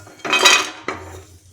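Dry-roasted nuts and dried fruit scraped out of a hot kadhai onto a plate, two bursts of clattering and rattling metal against metal, close and fairly loud, separated by a short pause.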